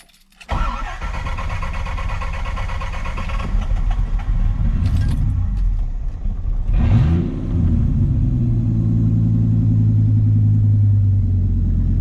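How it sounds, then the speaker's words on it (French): A Dodge Viper RT/10 V10 cranks and fires into a deep, loud rumble, gets a brief rev with a rising roar, then settles into a heavy, lumpy idle, close up with no talking. "allons écouter un peu le démarrage de la bête."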